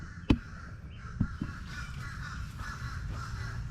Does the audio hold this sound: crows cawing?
yes